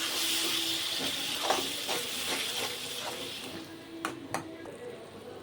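Ground tomato stirred into a hot pan for egg pasta, giving a steady steamy hiss with repeated soft scraping strokes and a couple of sharper clicks near the end.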